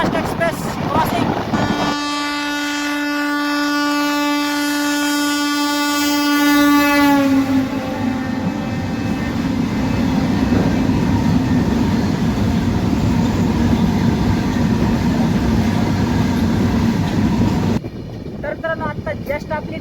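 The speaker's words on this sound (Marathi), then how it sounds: "CSMT Chennai Egmore superfast express crossing" The CSMT Chennai Egmore Superfast Express passes close by with a long, loud horn blast, followed by a steady roar and clatter of rolling wagons that continues for a long stretch.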